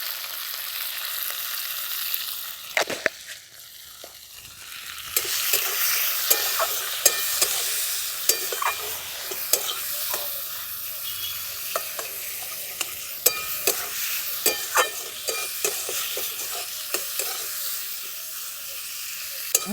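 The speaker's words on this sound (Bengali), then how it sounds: "সব কিছু মিশিয়ে নিয়েছি, ভালো করে ভাজা ভাজা করে নিয়েছি।" Small river fish and radish fry in hot oil in a pan, with a steady loud sizzle and the frequent scrape and clack of a spatula stirring throughout.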